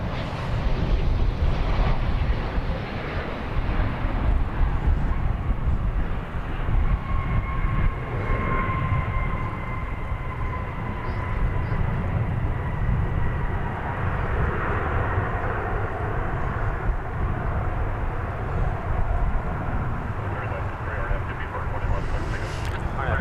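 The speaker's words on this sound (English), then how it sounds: "Seven 737-800 arriving after a 3-hour and 14-minute jaunt from Vancouver, British Columbia." A Boeing 737-800 airliner arriving at DFW Airport from Vancouver, its engine roar broad and steady across the whole stretch, heard from a distance with a slow rise and fall in tone.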